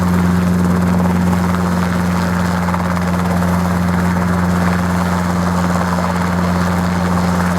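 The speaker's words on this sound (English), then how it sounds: "Next, this little R-22 helicopter about to set off." A small Robinson R-22 helicopter prepares to set off at an airfield campsite, its rotor and engine droning loudly and steadily from close by with a constant low throb.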